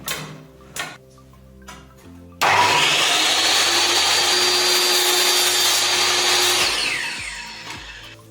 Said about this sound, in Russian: лучше, если есть, то использовать торцевую пилу. Этим инструментом вы зарежете аккуратнее и быстрее